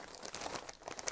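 Crinkly plastic rustling and crackling, steady and close, as a plastic bag is handled and sock yarn is pulled out of it.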